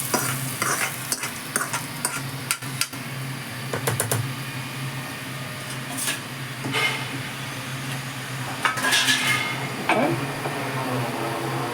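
Ingredients stirred into freshly ground batter for salt paniyaram, a continuous close hiss with scattered sharp clicks and scrapes of the spoon against the vessel, no voices.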